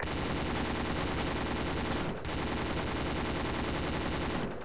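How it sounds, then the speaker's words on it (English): A mounted light machine gun fires in an Arma military mission, pouring out a loud, continuous stream of rapid shots with only a brief break in the middle. "I've got the LMG here mounted. I'm going to engage him yeah, with it."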